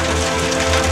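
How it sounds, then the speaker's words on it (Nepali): Big hailstones fall in a dense, loud, continuous patter, a close steady roar of impacts without any talk. "झन् ठुलो ठुलो असिना पर्न थाले यार"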